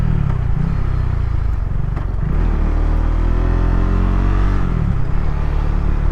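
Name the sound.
KTM 690 SMCR motorcycle engine revving while riding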